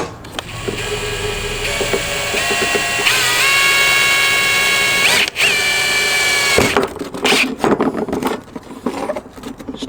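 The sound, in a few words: power drill drilling holes in metal can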